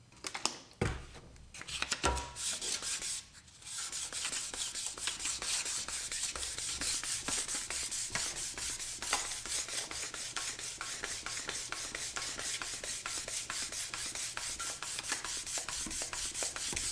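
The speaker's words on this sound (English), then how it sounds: "after quite a while of sanding and more sanding and more sanding" Steady, rhythmic rasping of fine 1500-grit sandpaper rubbed back and forth by hand, close and continuous, after a few louder knocks at the start, during a drill press restoration.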